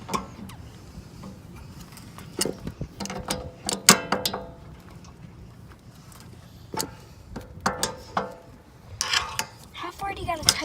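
Ratchet with a deep 1 1/16 socket tightening an RV water heater anode rod, with irregular clicking and metallic clacks, loud and close, and scattered mechanical knocks between strokes.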